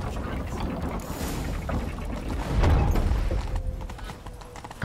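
Horse hooves clatter in a rhythmic gallop during an escape in The Witcher 3, mixed with mechanical game sounds and swelling louder midway before easing off.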